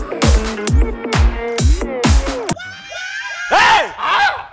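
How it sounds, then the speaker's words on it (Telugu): People shout and scream loudly inside a house during a Telugu comedy sketch: a run of rhythmic, forceful, pitched cries in quick succession, followed by a few longer wailing yells. "ఏంట్రా అరుపులో? This is house or fish market?"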